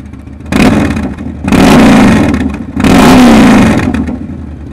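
A 2009 Yamaha XV1900 Raider fitted with slip-on mufflers is revved up loudly twice from idle. Each deep, throaty rev is held for over a second before the engine drops back to a rumbling idle.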